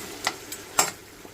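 Jamaican curry goat fries in hot oil in a pot, giving a soft sizzle punctuated by a few sharp clicks and scrapes of stirring, close and fairly quiet.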